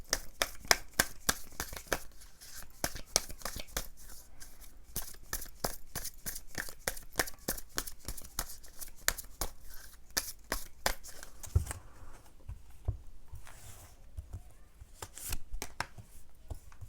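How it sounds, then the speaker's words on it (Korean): Tarot cards are shuffled in a long run of quick crisp riffles and slaps, close and fairly quiet, followed by softer single card draws. "제가 추가 카드 먼저 뽑을 거예요"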